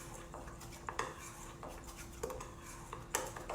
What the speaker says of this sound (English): let me just kind of give this a quick stir and get it combined